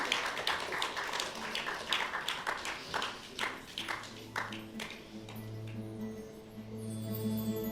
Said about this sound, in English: Now let us give us a round of applause to Associate Professor Muhammad Faishal.